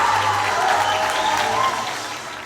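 An audience bursts into loud, dense applause with some cheering after a taekwondo performance, sustained and close before gradually tapering off.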